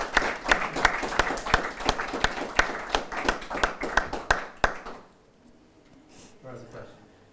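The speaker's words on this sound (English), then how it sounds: "round of applause" Applause and clapping from a chess audience at a master class, a burst of many hands lasting about five seconds before fading into quiet room murmur.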